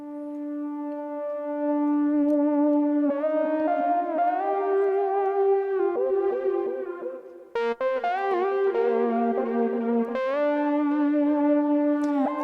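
Electric guitar melody runs through a Cubase multi-tap delay with ducking, so repeats stay low while notes play and swell up in the gaps, a steady, loud, processed line with no talk.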